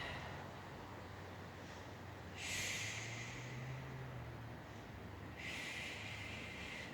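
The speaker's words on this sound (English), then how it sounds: "Just take a few breaths." Slow, deep breathing during a yoga stretch, two long airy exhales rising clearly above a low steady background hum, spaced a few seconds apart.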